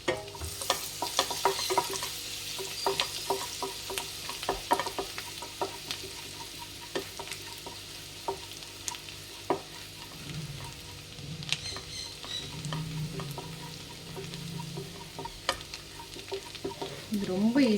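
Seven or eight cloves of chopped garlic sauté in a pan for paalak paneer masala, a soft steady sizzle broken by frequent scraping stirs of a spoon, close and moderately quiet.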